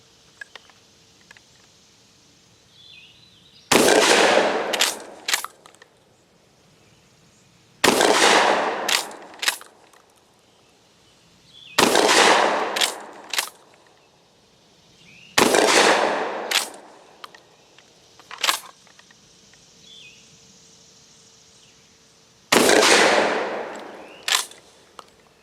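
A GForce GF12 pump shotgun fires five loud, widely spaced shots at close range. Each blast is followed by brief mechanical clatter from the pump action, which is giving trouble, with quiet gaps between shots.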